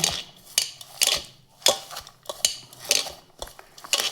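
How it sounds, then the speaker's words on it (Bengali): Metal utensil clinks sharply against a bowl in an irregular rhythm, about a dozen close taps and scrapes, while eggs, salt and other chop ingredients are mixed together by hand. "এখন আমি সামান্য পরিমাণ লবণ দিয়ে এগুলো ভালো করে একসাথে মিশিয়ে নেব"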